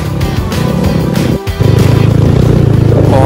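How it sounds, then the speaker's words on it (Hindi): A motorcycle ridden off-road over muddy, potholed ground, its engine droning loud and close with a steady throbbing pulse, briefly dipping and cutting out before surging back to a strong rhythmic putter. "एक हाथ से बाइक चला रहा हूँ भैया"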